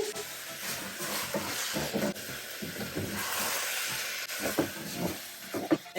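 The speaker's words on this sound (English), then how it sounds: "on a high fire, just put some white wine and stir it around." White wine splashes into a hot pan on high heat for imam bayildi, hissing and sizzling steadily while a utensil stirs and scrapes with uneven knocks, close by.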